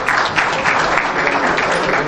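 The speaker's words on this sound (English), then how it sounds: "A lot of claps, ladies and gentlemen," An audience at a business delegation reception applauds a speaker, a short, even burst of continuous clapping that fills the room.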